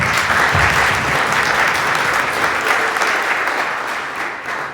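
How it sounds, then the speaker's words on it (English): A town hall audience at Northwestern College in Orange City, Iowa breaks into sustained applause, many hands clapping at once in a dense, even wash that fades a little at the close. "Let's give a round of applause for that."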